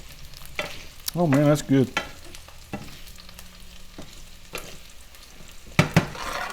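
Macadamia crusted mahi frying in a pan gives off a faint, steady sizzle throughout, with someone speaking briefly over it.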